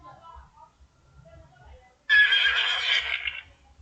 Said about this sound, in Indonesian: saya akan masukkan suara kuda